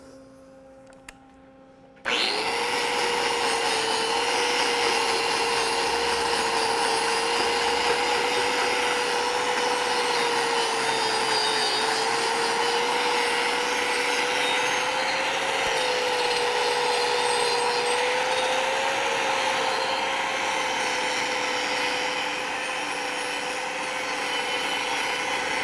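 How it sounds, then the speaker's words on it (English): A wire wheel grinds and scrubs a weld on 4-inch 70/30 copper nickel pipe, starting abruptly after a brief quiet lead-in and running as a loud, steady whine with a faint wavering pitch for over twenty seconds, no talk. "So I'll actually go ahead and use my wire wheel and clean this thing up pretty good before I do my cap."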